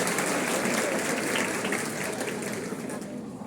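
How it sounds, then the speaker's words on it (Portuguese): An indoor audience of teachers at a municipal teacher training session claps steadily in a dense, sustained round of applause that fades slightly toward the end. "uma salva de palmas para essas meninas"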